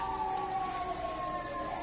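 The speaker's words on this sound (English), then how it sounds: "I do apologize for the sirens outside." A wailing siren outside rises and falls steadily, heard from a distance through background hum, continuous for the whole stretch.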